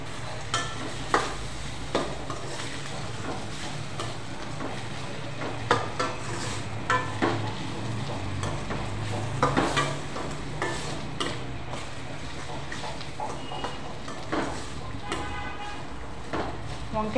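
Spoon stirring ginger garlic paste into brinjal frying in a pan, with steady sizzling under repeated scraping and clinking strokes, close and continuous.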